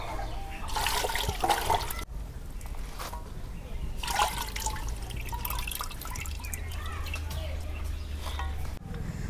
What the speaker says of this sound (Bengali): শাকগুনা ভালো করে ধুয়ে নিতেছি